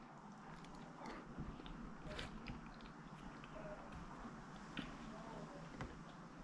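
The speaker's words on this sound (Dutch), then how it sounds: "ik ga eens een hapje nemen" Someone bites into food and chews during a casual vlog, with faint, close, moist smacking and crunching in an irregular rhythm against quiet room noise.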